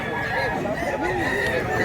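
A rooster crows once, briefly, over a steady background of noise and faint voices.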